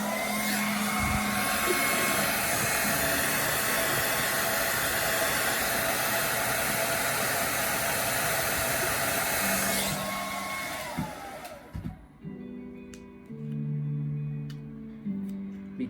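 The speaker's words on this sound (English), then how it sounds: "I'm gonna use my hair dryer to kind of stretch this out a little bit." A hair dryer blows loudly and steadily for about ten seconds, used to stretch a FocusV Carta skin, then cuts off, leaving faint handling sounds.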